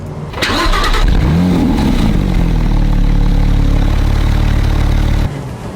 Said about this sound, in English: Hopefully you can pick up on the sound of this car.